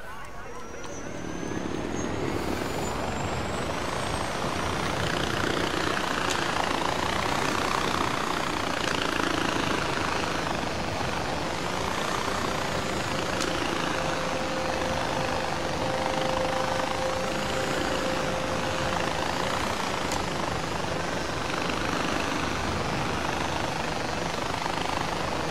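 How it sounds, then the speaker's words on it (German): A helicopter in the video game Far Cry 4 holds a steady rotor and engine drone throughout, with a thin tone sweeping in, while someone talks over it. "da ist auch der Heli"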